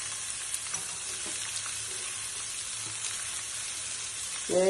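Sliced onions sizzle steadily in hot oil with curry leaves, a continuous close crackling hiss that stays even throughout, with a brief louder stir or clatter at the very end.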